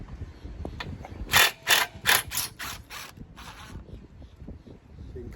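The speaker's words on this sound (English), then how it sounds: "I'm just going to use my little impact driver and see if I can" A small impact driver works stainless steel 1/4-20 by 1-inch machine screws out of a hoist mount aboard a Nordhavn 46 boat, giving about six rapid, loud rattling bursts in a row over faint background noise.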